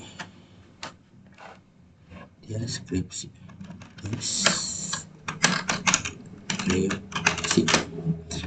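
Typing MySQL commands on a computer keyboard: bursts of quick, close key clicks with brief pauses and heavier strokes like the enter key, while a person talks over them.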